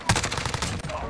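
Rapid automatic gunfire from a Grau 5.56 assault rifle in the Modern Warfare video game, a loud, dense burst of shots lasting about a second.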